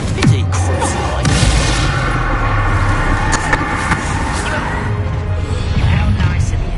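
Confringo blasting spell in a Harry Potter video game lands as a loud, close boom with crashing debris and rumbling aftershocks, while voices talk through it.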